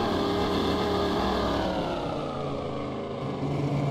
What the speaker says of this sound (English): I love how this truck sounds like it's about to blow up.